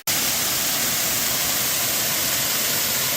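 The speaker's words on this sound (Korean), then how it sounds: "자연휴양림의 폭포에 물이 시원하게 잘 흐르네요." Water pours down a waterfall in the Daeunsan Natural Recreation Forest, a steady broadband rushing roar that holds constant and loud throughout with no breaks.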